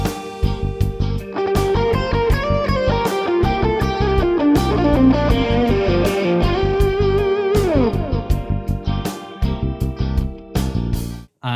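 Electric guitar plays a blues lick over a funky backing track with punchy bass and drums; loud, continuous, and rhythmic, with a slightly distorted tone.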